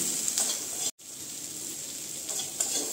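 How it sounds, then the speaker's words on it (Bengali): Ground cumin, coriander and chili powder frying in a pan for a Bengali egg dish, a soft steady sizzle with faint stirring, briefly cut out by a short silent gap. "মশলাগুলো আমি ভালো করে এখন কষিয়ে নিব"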